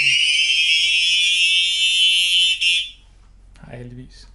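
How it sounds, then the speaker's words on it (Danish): An electronic cabinet lock fitted to a candy cabinet sounds a loud, shrill steady alarm tone for about three seconds and then cuts off abruptly, followed by a brief murmur of speech. "så har jeg så mulighed for at udløse alarmen."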